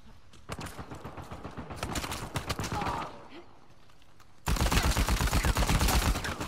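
Rapid bursts of gunfire crackle in a dense stream in an Uncharted 4 online team match, growing louder and more intense toward the end, with sustained automatic fire.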